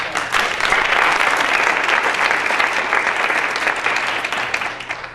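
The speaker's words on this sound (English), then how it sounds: "I don't think we really gave them a real good round of applause either." An audience applauds the sponsors at an LHA event, a dense, steady round of clapping from many hands that stays loud throughout and fades slightly toward the end.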